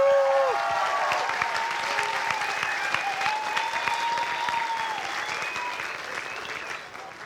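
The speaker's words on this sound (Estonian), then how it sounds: "Aplaus loomulikult!" A school audience applauds the 12th grade class at the Kose Gymnasium PlayBox 2025 show. Steady, loud clapping fills the whole stretch while sustained musical tones ring above it.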